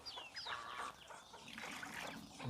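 Farm chickens kept in a simple backyard pen on a rural mixed farm clucking softly and intermittently at a moderate distance, with faint trickling and other bird chatter in the background.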